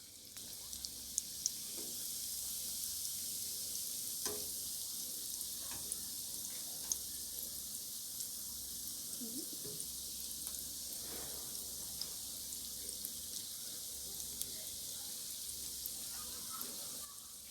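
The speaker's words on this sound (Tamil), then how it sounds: "இப்போ வந்து இன்னொரு சைடு திருப்பி போட்டுக்கலாம்." Stuffed egg 65 fries in hot oil while being turned over in the pan, a soft, continuous sizzle with a few faint clinks and scrapes.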